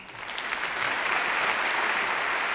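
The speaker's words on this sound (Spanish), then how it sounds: "a quien pido recibamos con un aplauso" An audience at a Chilean insurance industry conference welcomes a speaker to the stage with steady clapping that swells quickly and holds dense and even.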